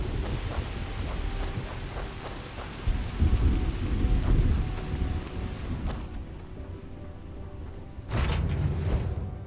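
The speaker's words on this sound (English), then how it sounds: "See if we can find some place where they're not having a freezing thunderstorm" A freezing thunderstorm in the Starfield video game: steady heavy rain hisses throughout, with deep rolling thunder swelling midway and a sharp loud crack near the end.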